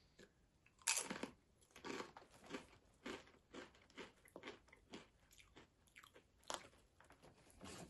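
Vegan elote-flavored Cabo tortilla chips crunch close to the mic, with a loud first bite followed by a steady run of crisp chewing crunches and no talking.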